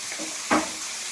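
Chopped onions with green and dried red chillies fry in a hot pan, giving a quiet, steady sizzle with one brief, brighter burst of spitting oil midway.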